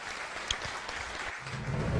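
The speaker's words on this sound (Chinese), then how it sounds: "我们掌声欢迎蒋川大师。" A crowd at a blindfold chess record-challenge event gives a short burst of moderate applause to welcome chess master Jiang Chuan. The clapping sounds somewhat muffled and distant.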